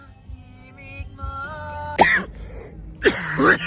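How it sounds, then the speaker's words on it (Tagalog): Two harsh, forceful coughs from a long-lasting cough ring out close by, separated by a brief pause, following a stretch of faint tonal background sound. "Tagal na itong ubo na to."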